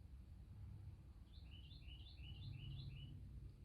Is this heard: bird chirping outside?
yes